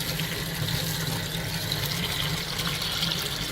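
Water running steadily from a kitchen tap in a house being inspected after an eviction, a continuous, even splashing flow with no talking.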